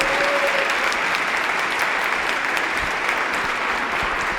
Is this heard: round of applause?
yes